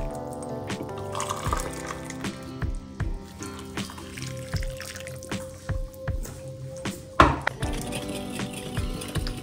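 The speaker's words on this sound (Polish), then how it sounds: "dodajemy szklankę gorącej wody, wtedy szybciej nam po prostu stygnie" Hot water is poured from a glass into bowls of jelly powder to dissolve it. Intermittent splashes, drips and trickles come close and moderately loud, with a few sharper clinks and a louder splash near the end, and no speech.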